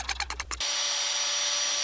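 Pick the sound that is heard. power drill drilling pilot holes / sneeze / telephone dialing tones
power drill drilling pilot holes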